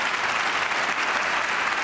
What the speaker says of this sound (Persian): حالا تشویق کنیم.